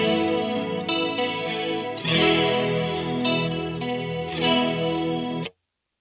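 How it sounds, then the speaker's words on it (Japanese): An electric guitar runs through a Free The Tone TA-2H pedal with its tone knob turned right, boosting treble and cutting bass, giving bright chorus-like strummed chords that shift partway through, sustained and alone before stopping abruptly. "右に回すと高音部が強調され、低音部がカットされるということです"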